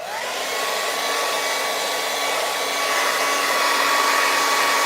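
A hair dryer blows on a Hello Kit DIY kit, a loud, steady whirring rush that runs unbroken and close by, with no voices over it.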